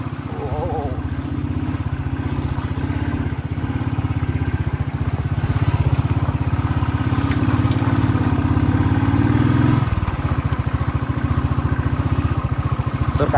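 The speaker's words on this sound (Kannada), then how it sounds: "ಬೈಕುನ ಅದು ರಾಯಲ್ ಎನ್ಫೀಲ್ಡ್ ತೊಗೊಂಡು ಬಂದಿದ್ದೀವಿ" A Royal Enfield motorcycle climbs a rough, broken hill road toward Ramadevara Betta, its engine a steady, close throbbing drone that swells in the middle before easing off.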